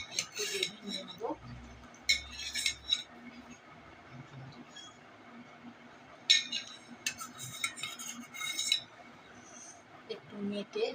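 Chicken gravy is spooned onto a plate, with a leg piece nearby. A few scattered clinks and scrapes of spoon against dish stand out over a quiet room, with soft talk in between.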